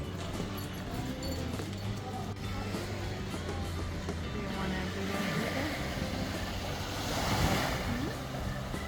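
Waves wash onto the beach at Cefalù in Sicily, a steady moderate surf with wind noise swelling toward the end, while people talk nearby.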